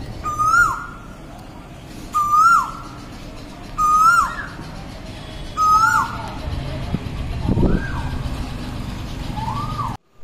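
An Asian koel calls again and again, each rising, fluty two-note whistle coming roughly every two seconds at moderate distance. A low background rumble and hum run beneath the calls.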